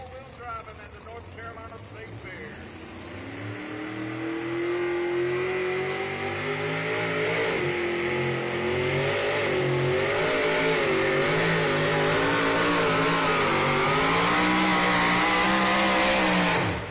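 A 650 cubic inch pulling truck engine roars at an NTPA truck and tractor pull at the NC State Fair, climbing into a loud sustained rev with a wavering, uneven tone as it struggles, and a voice commentates throughout.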